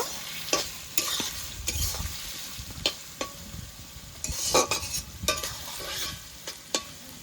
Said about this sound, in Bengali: পেঁয়াজটা এবার লাল লাল করে একটু ভেজে নেব।